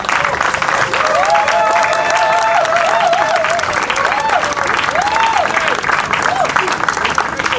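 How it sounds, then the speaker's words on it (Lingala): Loud, steady audience applause at a formal ceremony handing over fibre-optic equipment, the clapping continuous throughout with a voice or tonal sounds riding over it. "Et cela sous vos applaudissements."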